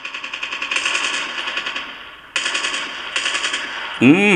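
Rapid bursts of automatic gunfire in Call of Duty Mobile, two loud rattling volleys separated by a short gap, followed by a sharp sweeping effect at the end.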